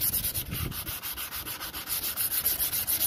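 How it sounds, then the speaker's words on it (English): Rough sandpaper rubbed over a plastic car headlight lens in quick, even back-and-forth strokes, a close, soft scratchy rasp pulsing steadily throughout with no voices. "You start with a rougher sandpaper."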